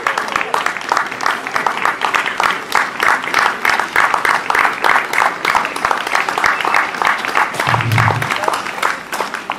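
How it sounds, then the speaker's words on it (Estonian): Audience applause at a marathon award ceremony, steady dense clapping sustained throughout, with a voice speaking over it and a brief low thump near the end. "nüüd on suur publik kohal ja juba aplaus"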